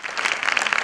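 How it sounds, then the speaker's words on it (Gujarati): Brisk clapping from an audience at a devotional santvani music gathering, a dense burst of many hands close by and fairly loud, with no voices. "એક વખત જોરદાર આપણે બતાવી તાળીથી"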